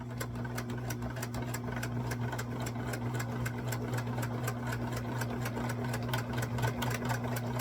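A sewing machine runs a straight stitch on a small doll-sized dress, a steady rapid clicking rhythm over a low motor hum, close and continuous without speech.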